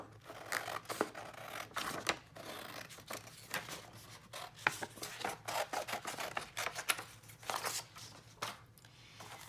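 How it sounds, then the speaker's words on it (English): Scissors snip repeatedly through paper tabs from a journal decorating kit at a craft table, a steady run of short, close, crisp cuts with small rustles in between. "let me cut them out"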